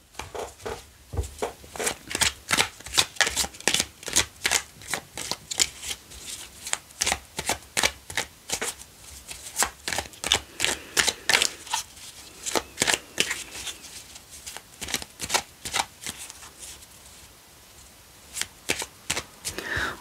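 Oracle cards being shuffled by hand, a long run of quick, crisp riffling bursts in a steady rhythm with brief pauses, close and clear with no talking.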